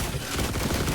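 Gunfire from a pistol in the survival video game The Last Caretaker, a dense burst of close, loud shots packed into a single second with no talking.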